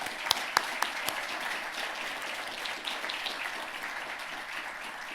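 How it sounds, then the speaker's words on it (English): Audience applause at a city State of the City address, a steady wash of many hands clapping, moderately loud and continuous, with a few sharper claps standing out near the start. "So Mr. Kanwar Darmot, would you please stand, because I'd like to give you a round of applause."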